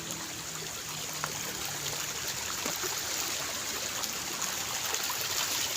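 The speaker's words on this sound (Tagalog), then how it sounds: "may malakas ang agos ng tubig o oh, galing sa taas" Steady, continuous rush of flowing stream water, broadband and even throughout, with no voices.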